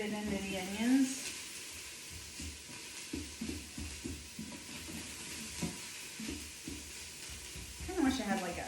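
Garlic sizzles with onions in an Instant Pot while making Italian chicken soup, a soft steady crackle broken by stirring clatters and brief spoken remarks over the whole stretch.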